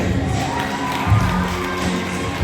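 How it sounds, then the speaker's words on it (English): A graduation ceremony crowd applauds a graduate walking on stage, steady dense clapping with some cheering filling the hall at close, even loudness. "A round of applause for NGSA graduate Adrian Bunbury."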